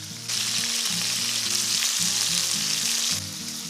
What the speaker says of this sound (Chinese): 再放点大蒜煎一煎，